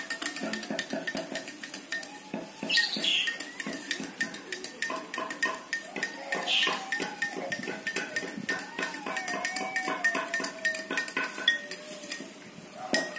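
A utensil stirs an oil mixture in a bowl, making steady scraping and clinking strokes against the sides that repeat throughout without pause.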